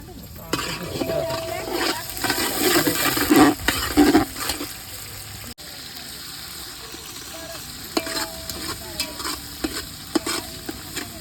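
Onion being stirred in a pan at home, with loud scraping and clattering strokes over a frying sizzle for about five seconds, then quieter sizzling with sparse taps.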